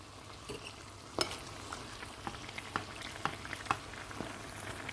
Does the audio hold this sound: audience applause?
no